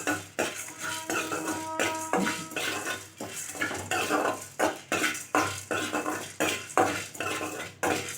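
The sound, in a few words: dry chili and spices being roasted in a pan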